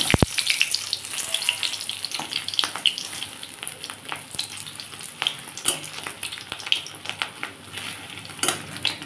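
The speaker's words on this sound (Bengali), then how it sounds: "এইভাবে আমি সব ডিমগুলো ভেজে নেব।" Fish roe fritters fry in hot oil with a dense continuous crackling sizzle, punctuated by frequent light clicks and taps of utensils against the pan.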